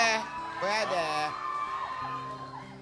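A studio audience at a live Filipino noontime variety show shouts and cheers, loud and close, its excited voices overlapping with a host's talk.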